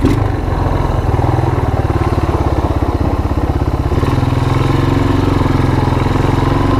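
A Yamaha Moto4 ATV barn find, fitted with a clone carburetor, revs hard while spinning donuts on mud. The engine's loud, close, pulsing note holds steady, then drops into a lower drone near the end.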